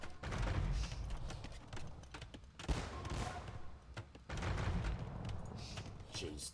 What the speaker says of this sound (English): Look how quickly that goes down when you got all those bombard cannons out.